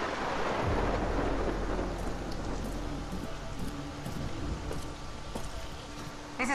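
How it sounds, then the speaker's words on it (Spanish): Heavy rain and rolling thunder fill a stormy Far Cry 6 scene, with a deep low rumble swelling early and a dense, constant hiss of downpour throughout, plus faint clicks and game tones in the background. "Encima llueve en el juego."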